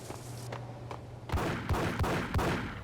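Pistol gunfire from a Beretta in the video game Max Payne: a few faint shots at first, then four louder, evenly spaced blasts with deep booms. No one speaks.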